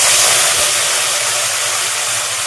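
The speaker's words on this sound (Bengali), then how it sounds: "তেলটা গরম হয়ে গেছে, আমি এবার কচুগুলো একটু ভেজে নেব।" Taro pieces fry in hot oil for a home fish curry, a loud, continuous broadband sizzle with no pauses and no talking.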